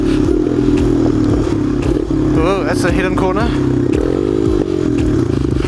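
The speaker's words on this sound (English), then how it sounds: "Nope, just my echo of my exhaust against the rocks." A quad bike's engine and exhaust chug loud and close while rock crawling, echoing off the surrounding rocks with a steady, low throb and some clattering. A rider speaks over it.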